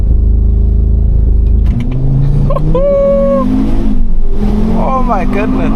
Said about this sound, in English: just take a moment to do a launch control, because this car actually has launch control